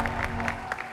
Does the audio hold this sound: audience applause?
yes